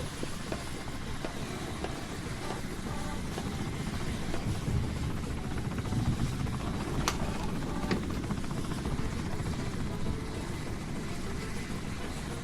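A helicopter in the Roblox game Frigid Dusk gives off a steady, droning rotor rumble that holds close and loud throughout, with faint scattered clicks layered over it.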